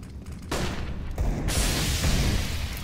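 A grenade goes off in a Counter-Strike Global Offensive match, a sudden loud broadband blast followed by a second burst and a roaring, hissing wash of noise that lingers to the end.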